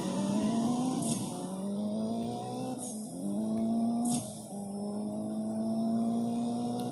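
Race car in a racing video game accelerating hard through gear shifts with a nitrous boost, a steady engine drone that rises in pitch, drops at each shift and climbs again, loud and without talk.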